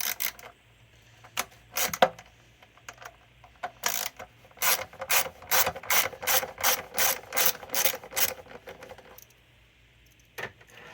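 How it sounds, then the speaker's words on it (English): A ratchet wrench loosening bolts on the upper intake manifold of a 2012 Dodge Durango 3.6 L V6, a few clicks and clanks followed by a steady run of about ten close, crisp ratcheting bursts, then a final click. "I'm taking the bolts out of the upper intake manifold"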